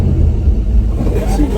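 An abandoned squarebody Chevy truck engine runs after starting, a deep loud rumbling idle that churns steadily while someone talks over it.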